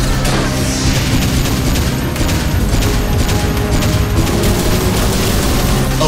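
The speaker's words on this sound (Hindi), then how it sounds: "और अब हमारी बारी, ब्लू पल्स गन आक्रमण।" Cartoon blue pulse gun attack fired in an animated car battle, a loud sustained barrage of rapid booming blasts with crashing impacts that fills the whole stretch.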